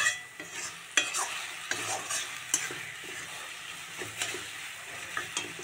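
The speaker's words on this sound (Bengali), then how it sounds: "কড়াইতে তেল দিয়ে ও আলু আর পেঁয়াজ দিয়ে দিয়েছে একবারে" Potatoes and onions sautéing in oil in a wok, a steady broadband sizzle with repeated sharp scraping and stirring clatters at irregular intervals, close and moderately loud, no voices.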